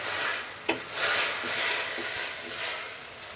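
Masala spice paste for a Bengali-style chicken curry frying and being stirred in a pan: a faint, steady sizzle with soft scraping strokes and one sharp clack near the start.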